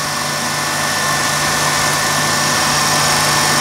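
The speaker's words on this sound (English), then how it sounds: "over here at my little micro drill press" A small micro drill press motor hums steadily with a faint high-pitched whine, running continuously at an even pitch.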